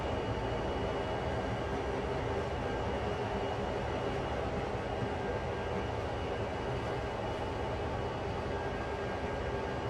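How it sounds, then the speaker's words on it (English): CSX heavy-haul freight train rolling through an icy, snowy scenario in Train Sim World: a steady, dense rumble and rail noise that stays level throughout, with no talking. "So we need to get our whole train past that switch."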